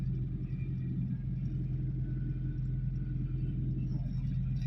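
A car engine idling at raised revs just after a cold start, a steady low rumble and hum holding constant throughout with no revving changes.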